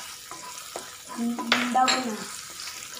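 Sliced garlic, about 20 grams cut lengthwise, frying in hot coconut oil, with a rising sizzle and scraping stirs, moderately close, alongside a brief spoken word.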